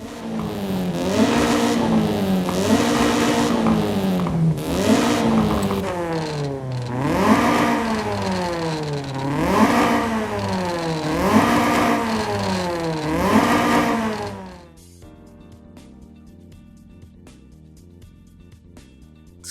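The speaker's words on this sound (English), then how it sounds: "ensure that the exhaust notes sound distinctive between car types and between modifications" A racing car engine in the video game Forza Horizon 5 revs up and down in repeated rising sweeps, loud and close, then cuts to a quieter idle with faint clicks near the end.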